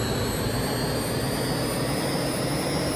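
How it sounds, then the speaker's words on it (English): Jet engine noise from the video game Eagle One: Harrier Attack: a loud, steady roar with a thin high whine, continuous and unbroken for the whole stretch, with no voices over it. "Oh, there's my jet noises."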